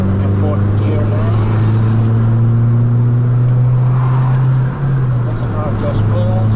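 A Mitsubishi Colt CZT hatchback accelerates into fourth gear, its engine droning steadily from inside the cabin with a slight pitch dip at the shift, loud and constant beneath a faint murmur of voices.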